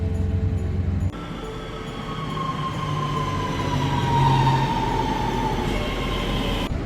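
A train in Manchester, UK, rumbles along at a steady roar from inside a carriage, with wheels humming and a faint squealing whine rising and falling over the tracks.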